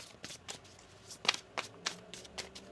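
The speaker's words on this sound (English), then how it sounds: "One more shuffle here." A deck of tarot cards being shuffled by hand, with quick papery riffles and soft slaps in an irregular rhythm, close and quiet.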